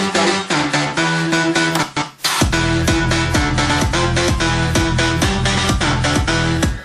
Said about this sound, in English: when you play together all these 3 bass sounds